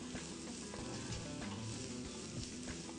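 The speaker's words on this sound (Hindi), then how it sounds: "चम्मच घुमाएं जब तक सारी प्याज सुनहरी ना हो जाए" Onions frying in a pan while being stirred, a steady close hiss and crackle of sizzling oil with faint scraping of the spoon, continuous and even.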